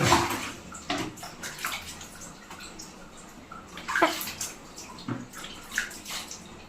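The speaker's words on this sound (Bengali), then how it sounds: "হ্যাঁ, তোমাদেরকে আমি স্নান করাচ্ছি।" Water splashes and pours in irregular bursts during a bath, close and moderately faint, with scattered louder splashes and trickling between them.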